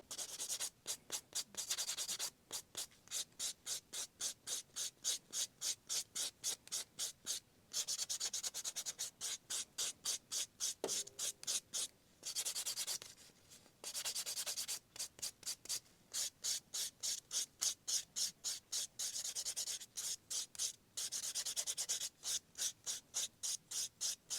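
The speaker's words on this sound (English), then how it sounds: "I'm now just going to take a buffer and just lightly buff over the surface to remove any of that extra residue" Gel-polished nails being lightly buffed with a nail buffer to remove residue, giving rapid, rhythmic rasping strokes close up, repeated steadily in short bursts with brief pauses and no talk.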